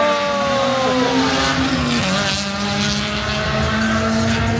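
A Honda car engine at a Honda cars and coffee meet holds a loud, steady revving drone with a slight dip in pitch midway, close and unbroken throughout.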